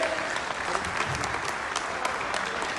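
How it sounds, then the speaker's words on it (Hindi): An audience gives a standing ovation at a BJP diaspora conference in Bengaluru: dense, steady clapping from a large crowd fills the hall, close and loud, with faint voices mixed in. "तालियों के साथ खड़े होकर स्वागत करें।"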